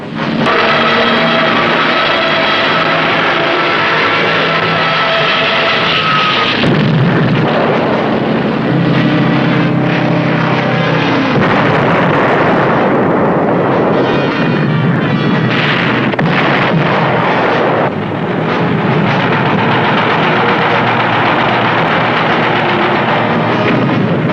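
Explosions and artillery fire from the surprise attack on Pearl Harbor, a dense, loud, continuous roar of blasts and rumbling bombardment that keeps going without pause throughout.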